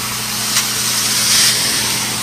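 Steady, loud broadband roar of a custom-built truck-mounted diesel heater running, a continuous close hiss and rumble with no pauses.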